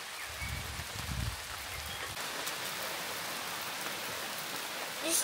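Heavy rain pours down steadily at the summit of Dymník in Czechia, a dense, constant hiss of a downpour with no talk, close and loud throughout.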